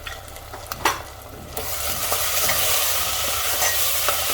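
Ground spices, red chili, coriander, turmeric and cumin powder, are stirred and fried in a pan for Sindhi-style mutton curry; a few spoon scrapes give way to a louder, steady sizzle that fills the rest without any voices.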